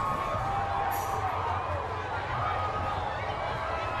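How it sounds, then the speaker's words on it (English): A dense downtown parade crowd at Pride Houston keeps up a steady roar of cheering and chatter, loud and continuous, with a short high whistle early on. "The energy in this crowd is incredible"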